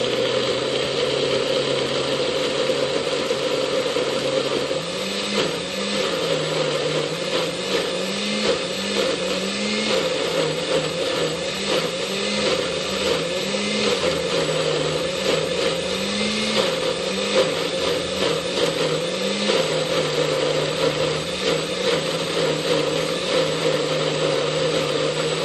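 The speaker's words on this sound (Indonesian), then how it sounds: "Ini teman-teman, kita akan blender bumbunya terlebih dahulu." Electric blender grinding spice paste for Batak fish arsik with tilapia, a steady loud motor whir running throughout with pitch wobbles as the blades churn the thick paste.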